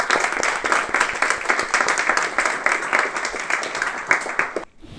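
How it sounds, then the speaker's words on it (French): A demo day crowd at a coding bootcamp applauds in a dense round of clapping with individual hand claps standing out, holding steady before cutting off sharply near the end. "Je pense qu'on peut les applaudir"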